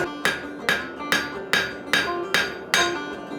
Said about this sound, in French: que tu tapes vraiment dans le coin en donnant l'angle à ton marteau comme ça